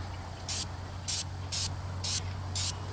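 Paint sprayer with a low pressure tip coating a metal roof, five regular bursts of bright hissing spray about half a second apart over a steady low motor hum, close and alone with no speech.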